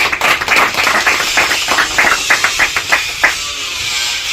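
Loud audience clapping at an oath-taking ceremony, a brisk burst of many hands close by, thinning into scattered claps before it fades out.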